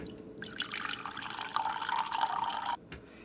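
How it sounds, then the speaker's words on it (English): Glass of water sound effect, a faint continuous trickling and dripping of water lasting a few seconds before cutting off abruptly. "So I've got 2 glasses of water sounds, right?"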